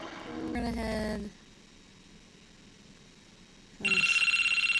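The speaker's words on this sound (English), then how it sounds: "But the phone rings." An electronic telephone ringtone sounds in two loud bursts separated by a quiet gap, with a faint whimpering, animal-like sound in the first burst.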